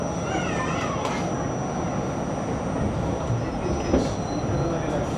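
A New York City subway train rumbles along with a continuous dense roar, a faint high whine and occasional rattles and clanks, loud and close from inside the car.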